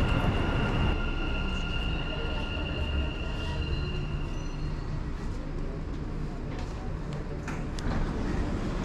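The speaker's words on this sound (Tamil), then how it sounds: "ட்ரெயின் வந்துட்டுது அப்படியே நின்றா பிறகு இந்த கதவு தானாக திறக்கும்" A Dubai Metro train pulls into the platform with a loud, steady rumble and some high squealing tones that fade, followed by brief clicks and knocks near the end, with no talking.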